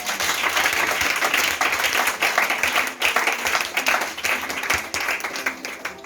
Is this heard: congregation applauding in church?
yes